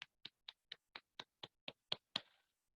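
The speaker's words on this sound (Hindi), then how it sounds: "लोगों के लिए एक जोरदार ताली होनी चाहिए।" Ten crisp, evenly spaced hand claps sound during a Zoom selling-skills training session, quiet and isolated in silence, in a steady rhythm with the final clap leaving a short trailing echo.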